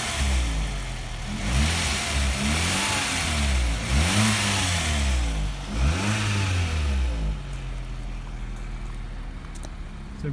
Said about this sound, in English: So it revs up and ticks over really nicely.